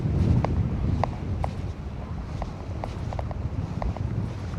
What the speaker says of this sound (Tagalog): Sarap ng hangin dito, grabe.